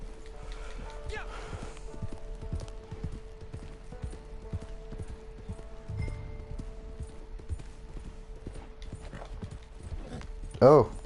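A horse's hooves clip-clop at a steady pace through a Red Dead Redemption Online game world, moderately near under a faint background hum, with people talking over it and a brief sharp noise near the end.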